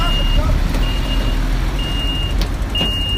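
A MAN truck at a hilltop worksite sounds its reversing alarm: a steady high beep repeating at regular intervals over a low engine rumble, with faint voices nearby.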